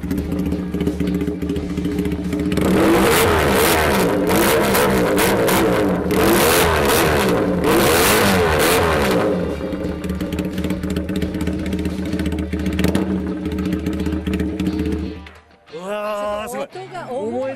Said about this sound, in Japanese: あのスーパーホークの音を聞かせてください